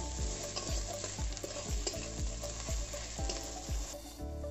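Ginger, garlic and onion fry in a pan, a steady close sizzle broken by regular scraping strokes of a stirring spoon roughly every half second.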